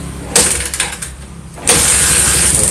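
A Bajaj Pulsar twin-spark motorcycle engine starts up: a short starter burst, a brief dip, then the engine catches and settles into a loud, steady idle close by.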